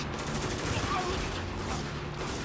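Rapid sustained gunfire from the shooter game Spec Ops: The Line, a dense, fairly faint fusillade that runs the whole time beneath voices.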